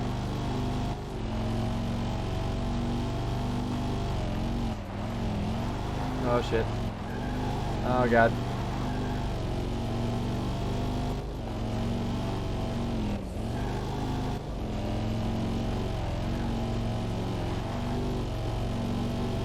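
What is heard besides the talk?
old Corvette race car engine accelerating on dirt, video game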